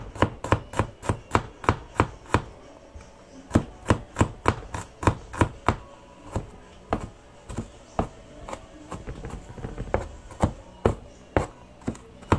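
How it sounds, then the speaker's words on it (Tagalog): Knife chopping garlic on a cutting board in a home kitchen, a fast run of sharp, close knocks in bursts with brief pauses, crisp and loud with no talk over it. "I-chop-chop-chop ko na lang ang bawang."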